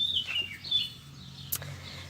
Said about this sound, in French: Écoutez le petit oiseau.